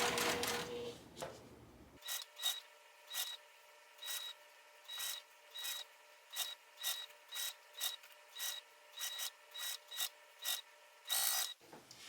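A sewing machine stitches piping onto fabric in quick, evenly spaced mechanical bursts, a rhythmic run of short whirring pulses heard close and alone after some brief handling noise at the start.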